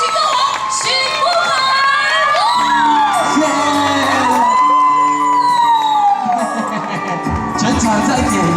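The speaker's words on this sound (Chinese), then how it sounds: "全场再给力一个尖叫声，好不好？" A concert crowd at a year-end arts and blessing gala in Shengang cheers, whoops and screams loudly and without a break around a singer's introduction. Sung or amplified musical tones also run through it.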